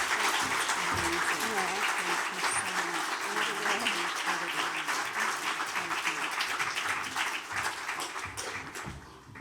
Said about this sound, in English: Please, another round of applause for Jay.